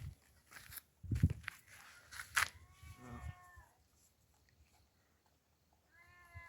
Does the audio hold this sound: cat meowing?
yes